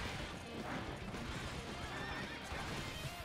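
A horse neighing in a video game, a loud whinny over clattering hoofbeats and dense game noise.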